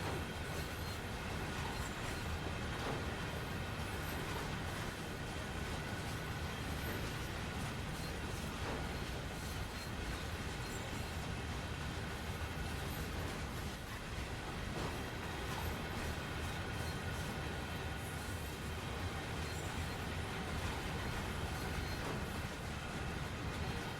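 In Train Sim World 3, a heavy train climbs the steep grade of Cajon Pass, its engines held in notch 8, giving a steady dense rumble and roar that fills the whole stretch without a break.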